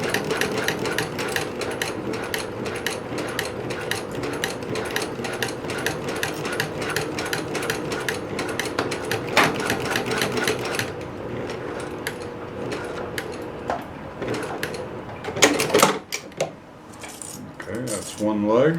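A sewing machine stitches a pants leg seam in a long continuous whirring run with rapid needle clatter, then stops, followed by brief handling clinks and a short burst of stitching.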